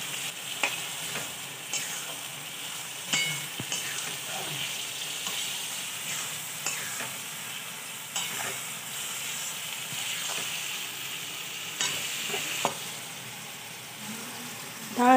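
Spring onion greens frying in a pan, with a steady crackling sizzle running throughout and scattered scraping stir strokes of a spoon against the pan, no voices.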